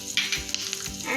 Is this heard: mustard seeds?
yes